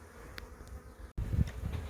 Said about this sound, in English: there's a considerable number of bees here